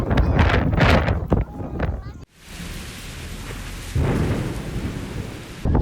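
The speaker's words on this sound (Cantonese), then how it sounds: "好大風！" Loud, rushing gusts of wind buffet the microphone, roaring steadily with brief dips, while people talk over it.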